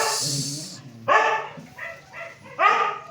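A dog nearby gives a few short, high yelping barks and whines in an uneven rhythm, fairly loud, reacting to a loud cordless impact wrench.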